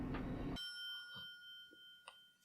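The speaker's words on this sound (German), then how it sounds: "Oh, es hat gerade geklingelt, das Essen ist da." A doorbell-like chime rings out in a German let's-play of the video game Danganronpa, clear sustained tones appearing after a loud burst and ringing on with a second soft strike near the end.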